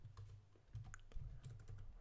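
Someone types on a computer keyboard while coding, producing quiet, irregular key clicks over a low steady hum, faint and close, with no talking.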